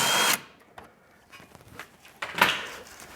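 Two 10mm bolts come off a small engine cover on a Toyota/Lexus 2GR-FE 3.5L V6, heard as a loud power-tool whir at the start, then quieter clicks and metallic handling with a second burst near the end.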